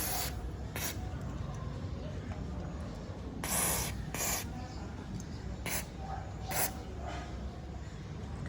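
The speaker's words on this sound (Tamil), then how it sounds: "ஜஸ்ட்டு ரஸ்ட் லூஸ்னை வச்சு கொஞ்சம் நான் ஸ்ப்ரே பண்ணி" Rust loosener is sprayed onto the screws of an old Royal Enfield Bullet in several short, crisp hissing bursts spread over a low background hum.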